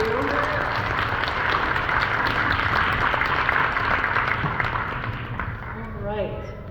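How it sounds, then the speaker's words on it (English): Audience applause at a Martin Luther King Jr. Day of Service Peacemaker Award event, a dense wash of clapping from a crowd that fades out over several seconds. "Let's give him one more round of applause."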